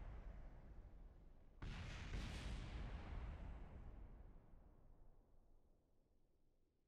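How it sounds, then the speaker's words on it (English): A sudden deep video game explosion in Kerbal Space Program booms and rolls on for a couple of seconds, then slowly fades into a quiet rumble, with no voices. "There's explosions happening."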